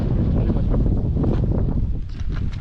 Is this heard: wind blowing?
yes